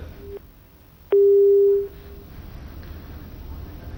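A single sustained telephone tone sounds for about three-quarters of a second after a call line disconnects during a phone-in broadcast, loud and steady, with a faint click before it and quiet background after.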